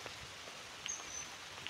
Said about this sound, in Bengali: এখনও কিন্তু বৃষ্টি পড়তেই আসছে